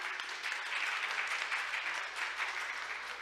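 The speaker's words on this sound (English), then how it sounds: "Let's give him a round of applause as well." An audience claps steadily through a ceremony at a Korean maritime week event as dignitaries are called to the stage. The applause is dense and continuous at moderate level, with no talk over it.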